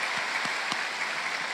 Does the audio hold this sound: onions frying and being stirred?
no